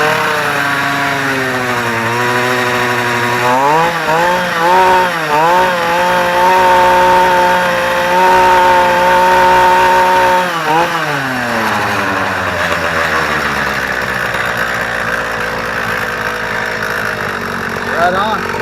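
A motorized BMX bicycle's small engine running loud through a newly fitted exhaust, buzzing steadily up close and rising and falling in pitch as it is revved, with talk over it.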